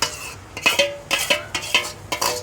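Biryani marinade is mixed in a pot with a utensil: repeated scraping, clinking strokes in an uneven rhythm, close and clear with no talking.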